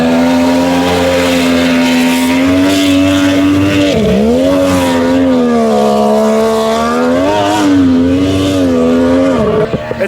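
A mini jet boat races along on the water in Idaho, its engine a loud, close, steady droning whine whose pitch dips and rises briefly as it runs at speed.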